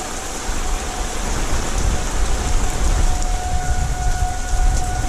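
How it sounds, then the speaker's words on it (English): Heavy rain pours down in a dense, continuous roar during a tornado-warned storm, with a faint steady siren tone wailing in the distance underneath. "torrential rains"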